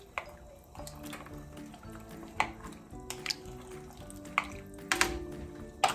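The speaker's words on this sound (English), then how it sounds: "give it a good stir" A spoon stirs cream of asparagus soup in a pot, giving quiet wet clinks and soft liquid sloshes at an irregular pace with brief sharper taps, close and with no talk.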